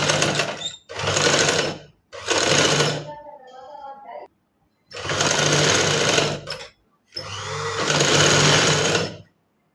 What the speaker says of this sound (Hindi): जी, तो अब हम अपनी कॉलर को सिलाई लगाएंगे।